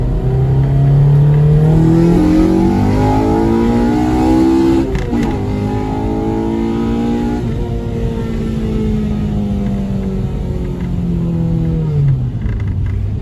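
A Honda Civic DX with a swapped K20Z3 engine and manual transmission revs hard and falls back, loud and close, with the pitch sweeping up and down and a crackle of pops from a popping tune as it settles.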